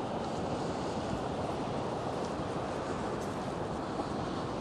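Sea waves wash onto the beach at Anapa's Dzhemete on a calm day, a steady broad wash of surf with no distinct breaks, heard from the shore.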